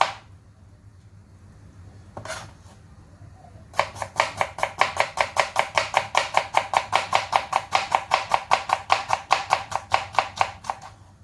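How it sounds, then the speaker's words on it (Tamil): Onions being finely chopped with a knife on a board, a fast, even run of crisp close taps after a few scattered knocks, keeping a steady rhythm to the end. "நம்மளுடைய வெங்காயங்கள் வந்துட்டு நம்ம சுத்தம் பண்ணி நன்றாக சாப் பண்ணி எடுத்தாயிடுச்சு"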